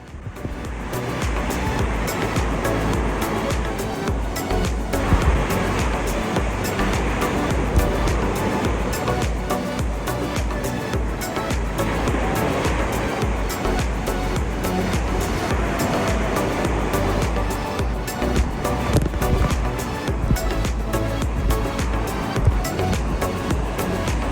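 Ocean waves break continuously at Safi, Morocco, forming a loud, unbroken roar of surf with no pauses and no voices.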